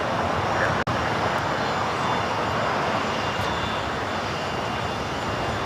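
Gulfstream G150 business jet from Madeira moving on the ground at LAX, a loud steady broadband engine roar that holds evenly throughout with one brief dropout, no talking.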